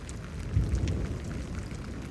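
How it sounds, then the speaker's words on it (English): Steady rain falls during a thunderstorm in Houston, Texas, a continuous broad hiss with a low rolling rumble of thunder swelling briefly early on, with no voices. "today's forecast is that it's raining"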